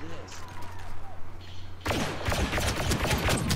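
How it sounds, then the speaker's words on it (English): Blaster gunfire in Star Wars Battlefront 2 breaks out suddenly partway through: a dense, rapid crackle of shots near and loud, following a quieter stretch with a low hum. "Oh, we're getting shot."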